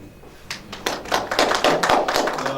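Audience applause at a Korean internet governance forum session, a short burst of claps that begins sparse and builds into a denser patter.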